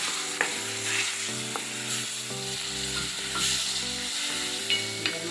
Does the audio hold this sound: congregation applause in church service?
no